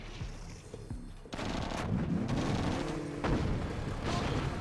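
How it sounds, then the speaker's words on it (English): Artillery rumbles in a strategy game, sending a dense barrage of booms and distant explosions that swells after a quieter start and carries a faint mechanical whine through the middle. "Artillery coming in."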